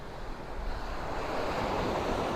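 Ocean waves wash onto a rocky beach, a broad continuous surf roar with wind buffeting the microphone, building slightly, with no talk.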